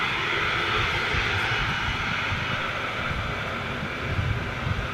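A Qatar Airways Boeing 777 jet on approach gives a steady, loud, broad engine roar that holds evenly throughout with no pauses.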